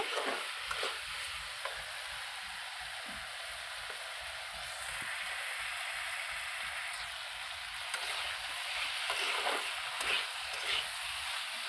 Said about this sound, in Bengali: আমি আরও একটু ভালো করে কষা করে নেব।